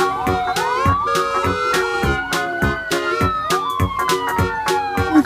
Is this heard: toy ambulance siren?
yes